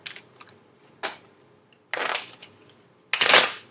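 Tarot cards being shuffled by hand: three or four separate bursts of crisp riffling and flapping, each about half a second, close and fairly loud with quiet gaps between, no talking.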